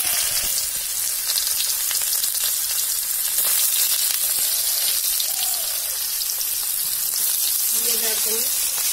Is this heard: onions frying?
yes